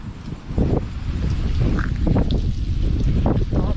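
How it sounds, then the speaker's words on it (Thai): Strong wind roars and buffets the microphone in heavy low gusts, with a few faint higher sounds underneath. "ลมแรงมากนะครับ"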